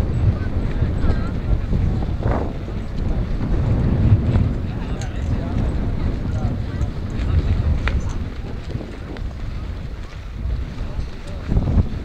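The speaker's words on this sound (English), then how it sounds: "Very strong gust of wind now." A strong gust of wind buffets the microphone outdoors at an F5J electric glider competition in Dupnitsa, Bulgaria, producing a loud, rumbling roar that surges and persists throughout, with indistinct voices in the background.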